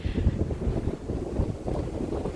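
Strong seaside wind blowing into the microphone, a loud, continuous low rumble that gusts and buffets without pause.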